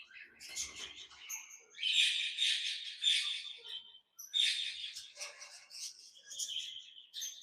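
Many small aviary birds, including budgies, lovebirds and cockatiels, chirp and twitter busily in overlapping high-pitched bursts, close by, with a brief pause midway.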